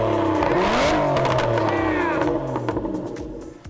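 A loud Lamborghini engine starts, then roars and revs hard, pitch climbing and falling through several throttle blips, close by and dominating the scene.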